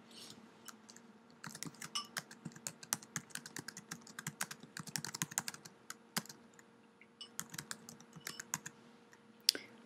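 Computer keyboard keys clack in quick irregular bursts with short pauses, near and crisp, ending on one sharper keystroke.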